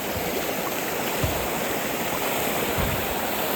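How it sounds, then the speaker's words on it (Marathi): River water flows in a continuous broadband rush, steady and fairly close, with faint low splashes and no voices. "पाठीमागा आपल्या साईडलाच नदी आहे"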